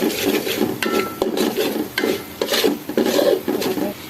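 A gourd and shrimp curry with spices is stirred in a pan, rhythmic scraping rubs of a spoon against the pot under a soft sizzle, loud and close with no talking.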